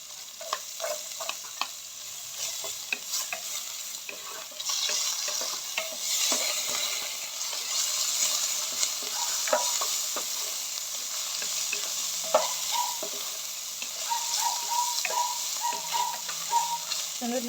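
Chopped onions sizzle in hot oil in a home kitchen, a steady, close crackle broken by frequent clicks and scrapes of a spoon stirring the pan.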